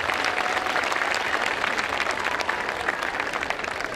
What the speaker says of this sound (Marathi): आपल्या सगळ्या छोट्या मुलांसाठी एक जोरदार टाळ्यांचा कडकडाट.